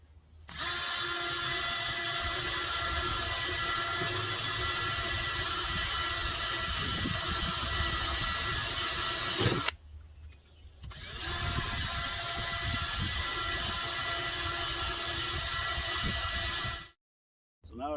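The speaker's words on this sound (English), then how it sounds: "And then we can drill our 2 other holes on the other side here and finish it up." A power drill whines steadily, boring holes through an aquarium center brace in a fish tank repair, running continuously in two long bursts separated by a brief pause.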